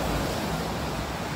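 Ocean waves at Om Beach, Gokarna, make a steady, full broadband wash of surf that stays loud and even throughout, with no voices.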